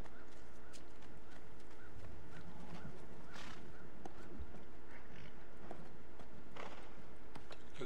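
Horse hooves clip-clopping over a dense, continuous Assassin's Creed 2 game soundscape, with occasional whinnies, steady and fairly loud throughout.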